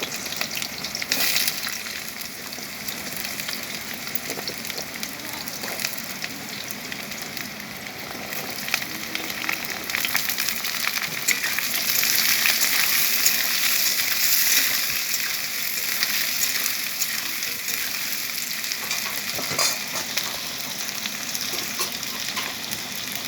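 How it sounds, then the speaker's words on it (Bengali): Potatoes frying in a pan with whole spices, a dry chilli and bay leaf, making a steady, dense sizzle and crackle that swells slightly midway and runs continuously, close up, with no talk. "আলুটা একটু ভাজা ভাজা করে নেব।"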